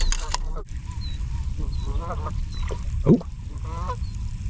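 Geese honking repeatedly in a loud, close flock during a fishing outing, with one brief spoken exclamation.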